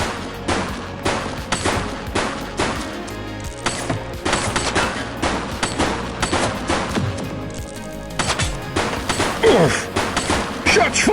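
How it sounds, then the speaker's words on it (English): Rapid bursts of gunfire crack through a police video game, repeated shots and automatic volleys layered over game music and effects, with voices calling out between the shots. "Shots fired!"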